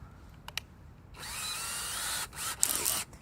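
A power drill with a small 5/32-inch bit whirs steadily for about a second, pitch dipping briefly, then revs again and stops, preceded by two short clicks.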